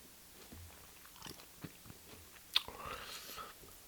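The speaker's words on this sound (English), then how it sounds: "You hear that crunch?" Cereal is chewed close to the mic, quiet crunchy bites and mouth sounds with one sharper crunch midway, soft and intimate.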